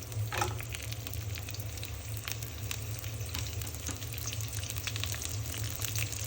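Chopped onion and green chillies fry in hot oil in a pan, sending up a loud, continuous close sizzle with occasional stirring scrapes.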